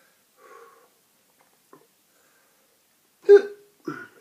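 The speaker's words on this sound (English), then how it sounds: "Hiccups." Hiccups after eating a hot Jigsaw pepper: a few short, separate vocal catches, one faint early, then two sharper, louder ones close together near the end, surrounded by silence.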